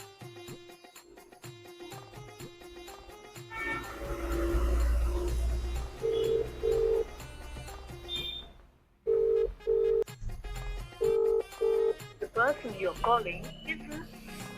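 Beeping dial tones from a phone are followed by a repeated two-burst ringing tone, with a voice talking over parts of it.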